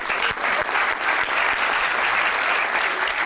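An audience at a live fan Q&A session claps steadily, a dense, fairly loud wash of many hands with a few sharper individual claps standing out, continuing evenly throughout.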